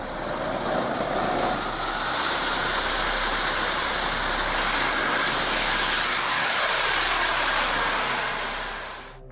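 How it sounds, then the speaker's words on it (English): The AB-5 jet-powered drone, driven by four microturbines, gives a loud, steady turbine roar with a high whine on top, continuous for about nine seconds before cutting off sharply at the end. "It was only a matter of time until somebody built an actual jet-powered drone."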